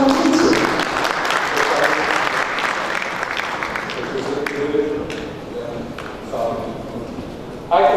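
Audience applause for a workshop speaker at a seminar session, a dense steady clapping that fades partway, with voices heard over it.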